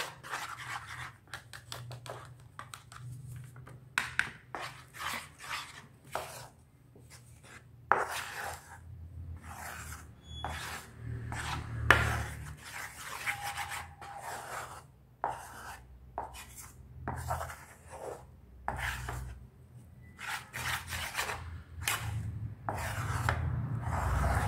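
Cacao powder is mixed in a bowl for homemade chocolate, making repeated scraping and rubbing strokes in an uneven rhythm. The sound is close and fairly quiet, with short pauses between strokes.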